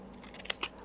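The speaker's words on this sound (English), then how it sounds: "I'm going to cut away that corner" Scissors cut off the corner of a handmade cardstock greeting card, giving two quick, close snips that stand out against a quiet room.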